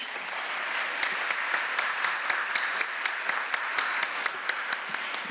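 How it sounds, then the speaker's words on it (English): An audience at a philanthropy day event applauds steadily, dense clapping from a sizable crowd welcoming speakers to the stage, with a few louder individual claps standing out. "please join me in a round of applause as we welcome Shazeen and Kathy to the stage"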